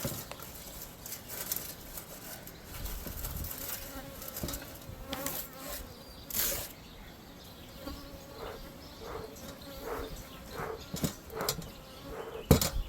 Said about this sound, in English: I got a bunch of bees zooming around my head